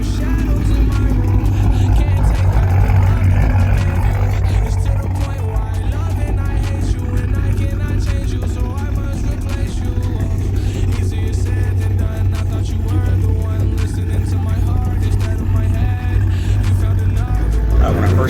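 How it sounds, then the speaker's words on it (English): A turbocharged Pontiac G8 GT V8 idles with a choppy, loping beat, heard as a loud, steady, deep rumble that runs throughout. "Other than the fact that it's a V8, I love the chop."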